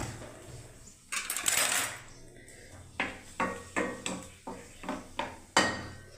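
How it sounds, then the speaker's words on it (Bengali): Cardamom, dried chilli and cinnamon hit hot oil in a pan, giving a brief hissing sizzle followed by a run of sharp, fairly quiet clinks and taps in an uneven rhythm. "এখানে আমার তেল গরম হয়ে গেছে বন্ধুরা দেখুন। এখানে বন্ধুরা দেখুন একটা এলাচ, শুকনো লঙ্কা, দারচিনি বন্ধুরা আমি ফোড়ন দিয়ে দিচ্ছি এদিকে।"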